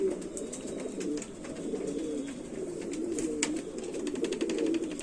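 Rampuri pigeons coo in low, rolling, repeated calls throughout, close and steady, with faint clicks and rustles behind them.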